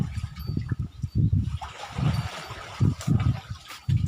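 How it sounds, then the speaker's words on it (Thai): Water from a garden hose splashes and gurgles in uneven bursts, fairly close and moderately quiet, with short gushes separated by brief lulls and no voices. "คิดว่าน้ำไหลนะครับ"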